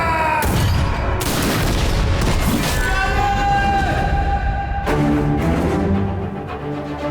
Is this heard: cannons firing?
yes